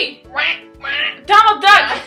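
A person imitates Donald Duck's quacking voice in a few nasal, squawky bursts, close and loud, with a short pause before the last two louder bursts.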